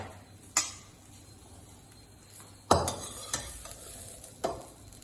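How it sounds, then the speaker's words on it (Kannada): Grated coconut being dry-roasted in a pan for chutney, with a few sharp scrapes and clinks of a spatula against the metal at irregular intervals over a soft background hiss, close by and without speech. "ಇವಾಗ ಆಗಿದೆ ತೆಂಗಿನಕಾಯಿ. ಸ್ವಲ್ಪ ಪರಿಮಳ ಬರೋ ತನಕ ಹುರ್ಕೋಬೇಕು."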